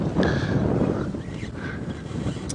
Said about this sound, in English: It's quite windy here at the waterhole today.